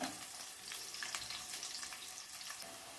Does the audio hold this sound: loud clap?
no